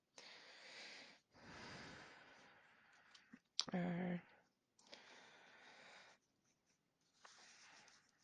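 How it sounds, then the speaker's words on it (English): Handwritten notes scratched onto paper with a pen in a quiet room, several soft, raspy bursts of writing lasting about a second each, separated by pauses, with a brief louder tap partway through. "let me just write down some notes here"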